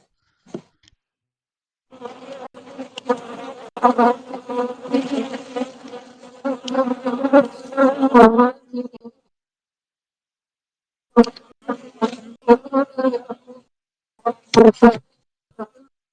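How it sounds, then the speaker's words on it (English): Honeybees buzz loudly and close in a beehive opened for a pre-winter inspection, with dense droning bursts broken by short silent gaps. "on this one, yeah, we can clearly hear the bees"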